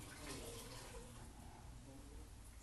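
Filtered water pours from a drum with a net filtration unit down into an azolla tank, a steady, close rushing and splashing flow that stays even throughout.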